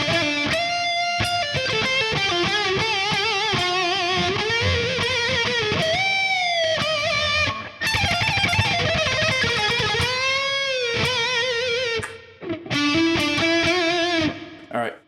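An electric guitar runs through an amp sim with heavy reverb and chorus, sustained wavering notes that wash and bend, loud and close, with brief gaps between phrases.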